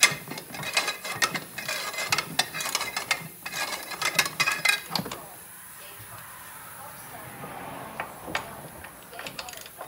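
A ratchet clicks in quick bursts while loosening control arm nuts on a 2013 Chevy Silverado, close and busy for about five seconds, then only faint scattered clicks follow.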